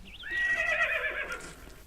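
A tamed horse in Minecraft's Mo Creatures mod lets out a single loud, drawn-out whinny with a wavering pitch that lasts most of the moment and fades at the end.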